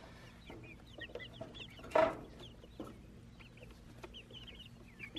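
Barred Rock and Americana hens cluck and chirp softly in quick, scattered calls, close by, with one louder squawk or flutter partway through.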